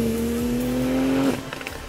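Porsche 992 Turbo fitted with an iPE exhaust system accelerating: a steady rising engine tone held strongly for over a second, then cutting off abruptly into a rougher, fading rumble, heard from outside the car.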